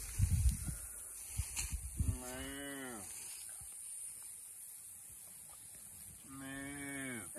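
Cattle on a farm give two drawn-out moos, one early and one at the end, moderately near, with a few knocks and faint background noise between.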